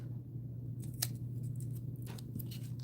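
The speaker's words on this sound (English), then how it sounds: "So I'm just going to cut the extra off because then you could turn them into stickers" Scissors snip through excess paper around a floral country-style sticker sheet, a few short crisp cuts in close succession over a steady low hum, with no talking.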